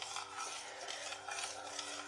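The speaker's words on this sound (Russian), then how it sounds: "И сейчас размешиваю все в кастрюльке." Milk-based cough remedy being stirred in a saucepan, a continuous soft scraping and swishing of a spoon against the pan, faint and close with no talk.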